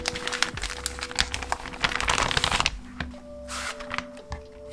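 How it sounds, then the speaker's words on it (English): A large folded tofu sheet being unfolded and cut into smaller pieces, giving dense crinkling and rustling close up with sharp snips and taps, busier at first and then thinning out. "This tofu sheet comes in one large piece that's folded up, so you'll have to cut it up into smaller pieces."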